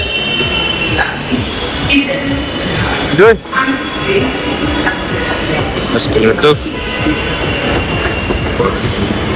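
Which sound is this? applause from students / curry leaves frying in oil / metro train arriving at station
metro train arriving at station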